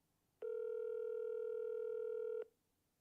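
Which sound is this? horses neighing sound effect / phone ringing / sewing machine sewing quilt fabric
phone ringing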